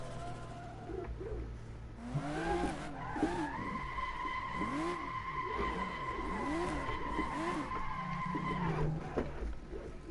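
Car tires squealing and skidding as the rear end slides out on a mountain road in Assetto Corsa, a sustained tonal screech over a wavering engine note, close and loud for several seconds before easing off.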